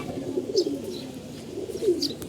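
Pigeons in a home loft giving low, soft cooing calls close by, a couple of brief higher chirps above a steady background hum.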